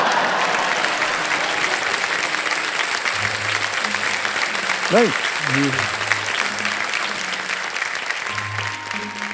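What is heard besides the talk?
audience applauding in TV studio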